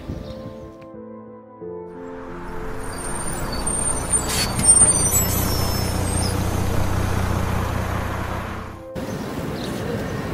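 Bus arriving at Seyne in the Alps, a low diesel engine rumble swelling as it pulls in, with a sharp hiss of air brakes partway through before the engine settles to idle.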